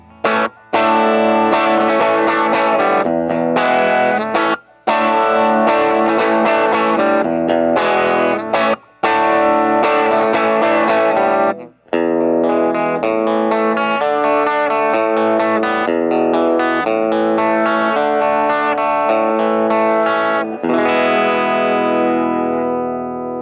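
Electric guitar driven through a Tube Screamer overdrive into a Fender Blues Junior amp with a Jensen P12Q speaker, close-miked with a Shure SM57: loud, continuous distorted chords and riffs with brief gaps between phrases, ending on a ringing decay.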